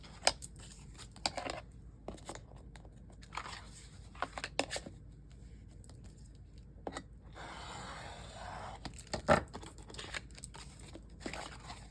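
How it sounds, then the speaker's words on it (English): Scissors snip through excess paper or chipboard while an album cover is trimmed, giving a series of sharp, close cuts with quiet pauses and a longer rustle of material near the end. "I'm gonna cut off the excess"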